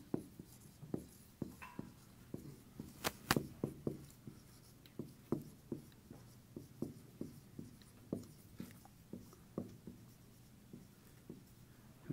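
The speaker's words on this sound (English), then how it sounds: "I'm going to write all this out" A marker squeaks and taps across a whiteboard in a steady run of short, close strokes, roughly two per second, with a few louder scrapes, and no one speaks over it.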